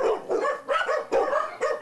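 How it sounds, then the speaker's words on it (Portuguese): Agitated dogs bark in quick succession at a house in Marudá, about five sharp, close barks in a rapid uneven rhythm, with no talk. "Eles começam a latir, latindo como se estivesse vendo alguém se aproximando"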